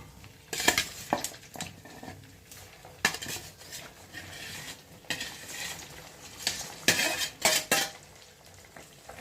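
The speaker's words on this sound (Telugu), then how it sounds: "చికెన్ డీప్ ఫ్రై అవ్వటం కొంచెం టైం పట్టిద్ది." Chicken deep frying in a pan for chicken chutney, a soft sizzling bed broken by clinks and scrapes of a spatula stirring against the metal, with no talk.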